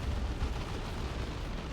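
Sustained gunfire and explosions from shooter units in a Dawn of War 2: Retribution 2v2 battle, a dense, steady rumble of battle noise with no talk over it.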